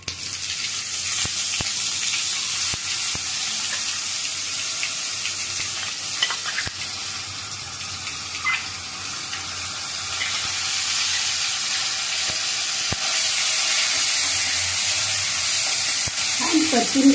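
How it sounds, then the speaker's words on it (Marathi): Grated onion tipped into hot oil tempering sizzles and fries steadily while a spoon stirs it with occasional scraping clicks, close and continuous, with no talking. "आता मी ह्याच्यामध्ये टाकणार आहे कांदा किसून जे किसलेला आहे तो मी टाकणार आहे."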